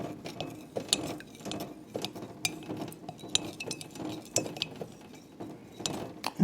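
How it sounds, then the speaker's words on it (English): A small utensil stirs preservative into a homemade lip gloss mixture, making a steady run of light, close clinks and scrapes against a glass container. "I'm going to stir that in. Stirring that in."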